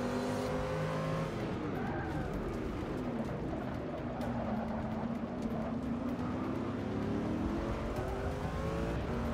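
Corvette race car engine in Forza Motorsport 6, a steady droning engine note with shifting pitch sweeps, loud and continuous throughout with no talk.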